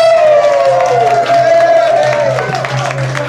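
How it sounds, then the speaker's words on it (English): A pub audience at the Hat & Feather open-stage night applauds and cheers their sound man, with steady close clapping, whoops and a voice calling out over the crowd. "I want a big round of applause for Edmund, our sound man."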